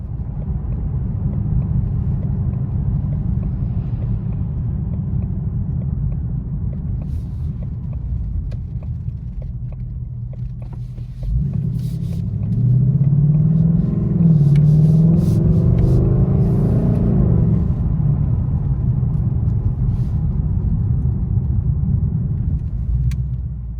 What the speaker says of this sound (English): First thing to note about the car is the exhaust note. This was in Sports Plus mode and sounds very nice, has good tone.